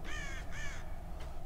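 Ravens caw in the Tomb Raider video game on PC, set high in the mountains: two harsh, fairly loud caws in quick succession, then a shorter third call, over a low ambient rumble.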